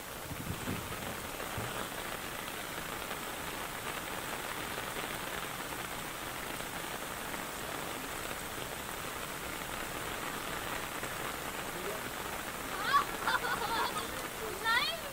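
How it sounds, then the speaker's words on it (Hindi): Steady heavy rain hisses throughout at a moderate, even level, with a few louder spatters near the end, during a downpour in Sikar district, Rajasthan. "सीकर जिले में झमाझम बारिश हुई, वहीं कई निचले इलाकों में पानी भर गया।"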